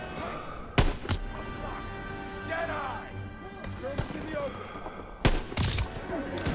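A handful of sharp, loud gunshots from a Call of Duty WWII weapon, spaced a few seconds apart with quieter battle noise between them, while someone talks in Turkish.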